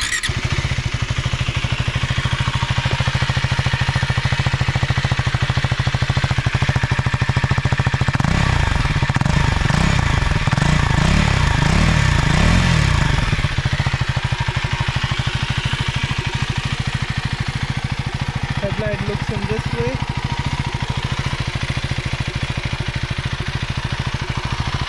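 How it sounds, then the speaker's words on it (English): KTM Duke 390 motorcycle starting up and idling nearby, a steady single-cylinder throb running throughout with a louder rough burst midway before settling back to an even idle. "let's just start the bike for a while. I'll just let you know how the sound of this bike."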